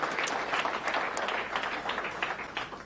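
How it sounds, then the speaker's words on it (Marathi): An audience at a Marathi business motivation talk breaks into applause, a dense, continuous wash of clapping heard steadily throughout. "जोरदार टाळ्या आपण वाजवूया त्यांच्यासाठी."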